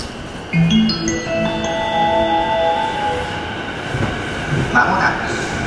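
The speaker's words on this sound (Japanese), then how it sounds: "まもなく2番線に当駅止まりの電車が参ります。" A Chuo Line rapid train pulling into a platform at Tokyo Station, with sustained metallic brake squeals and a rumbling rolling hum that fill a busy station, loud and close.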